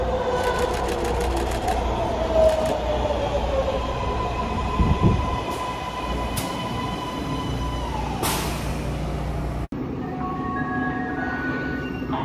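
A MARTA subway train at a station platform in Atlanta, with a loud rumbling roll, rising metallic whines and squeals, then a sudden drop to quieter hum and tones as it settles.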